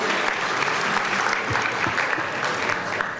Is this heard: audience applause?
yes